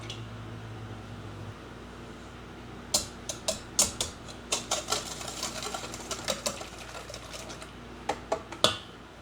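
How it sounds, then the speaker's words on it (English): A whisk beats eggs and sugar in a bowl, making a run of quick, close clicking taps against the bowl that start after a quiet moment and carry on in an uneven rhythm, with no talking. "I'm just going to take my whisk and beat that up until it's really well mixed and beat up real smooth"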